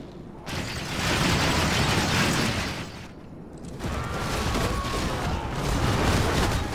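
Shooting and explosions fill a battle in a Lord of the Rings strategy game mod, with a dense roar of volleys and blasts that surges twice, briefly drops away near the three-second mark, then swells again.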